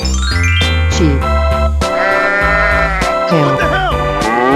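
Sheep bleat in a 3D animal video game: several wavering, nasal calls in a row, loud and close, over a steady game soundtrack.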